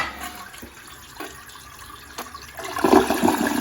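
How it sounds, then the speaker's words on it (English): A household toilet that flushes but does not drain completely, heard after a few scattered clicks and knocks as the water surges in a loud rushing swirl that builds and stays strong. "let's flush the toilet"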